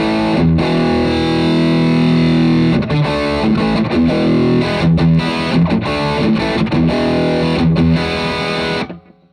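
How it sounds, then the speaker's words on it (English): Two-Rock Sensor 35-watt amp on its high-gain drive channel with the tone stack bypassed, blasting loud, saturated distorted guitar chords with brief choppy breaks, ringing continuously before cutting off at the end. "what you're hearing is the whole room ringing as this amp just lights up"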